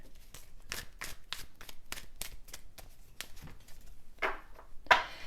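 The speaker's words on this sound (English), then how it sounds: "One more shuffle here." A deck of cards being shuffled, with a steady run of crisp riffling bursts and a couple of louder snaps near the end. The sound is close and fairly quiet, and no one speaks.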